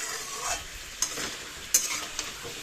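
Food being sautéed in a pan in a village kitchen, with a steady close sizzle and soft scraping from stirring. A few sharp spatula clinks stand out, and no one talks.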